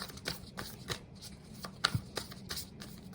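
Tarot cards being shuffled by hand, a run of soft riffling flicks and taps in fairly close quarters with no one talking over them.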